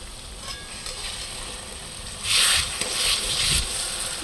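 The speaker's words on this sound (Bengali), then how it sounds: "এই যে মশলা আমার কষানো চলছে এখন" Spice masala cooks down in oil in a home kitchen, stirred in the pan: a soft continuous sizzle that surges louder and brighter for about a second as the paste is turned, then settles back.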